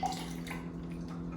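Water poured into a cup, filling it halfway, a steady close splashing trickle with no talk over it.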